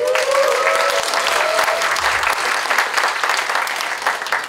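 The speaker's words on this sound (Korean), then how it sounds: "박수 한번 주십시오" Loud, sustained audience applause fills a literary debut ceremony for a literary magazine, a dense wash of many hands clapping steadily from start to finish with no pauses.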